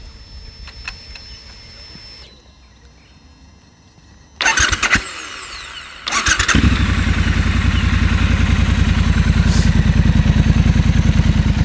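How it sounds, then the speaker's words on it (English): A 2019 Triumph Scrambler 1200 XE motorcycle is started with a short cranking burst, then settles into a loud, close, steady idle with a throaty, pulsing exhaust tone running alone to the end. "So there we go, starting up. A really wonderful tone coming out from the exhaust."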